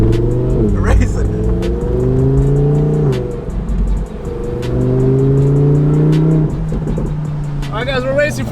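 A modded BMW 435i street race for pink slips: a car engine climbs through several hard revving accelerations with gear changes, loud and close, while people talk and shout over it.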